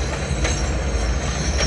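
Train carriage rolling steadily along rails in a horror video game, a continuous low rumble with faint wheel rattle and squeal, loud and close, no talking.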